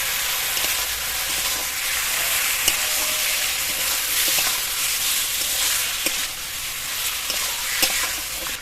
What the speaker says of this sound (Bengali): এবার এর মধ্যে ম্যারিনেট করা মাংসটা দিয়ে দেবো।